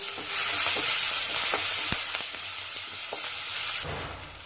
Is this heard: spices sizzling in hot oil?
yes